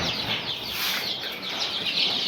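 Chicks from a small batch of about fourteen or fifteen poultry chicks on a farm, chirping continuously in a dense, busy chorus of high peeps with occasional clucks, steady and close throughout.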